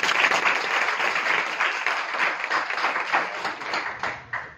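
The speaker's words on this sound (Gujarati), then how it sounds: "એમના માટે જોરદાર તાળી" An audience applauds a teacher at an event, a dense burst of clapping that holds steady and then fades toward the end.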